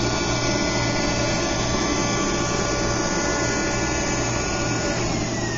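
A machine cuts a bevel into anodized aluminum while a dry vacuum runs alongside, giving a loud, steady whine and roar with a constant low hum and no pauses throughout.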